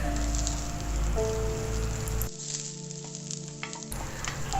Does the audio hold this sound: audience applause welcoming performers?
no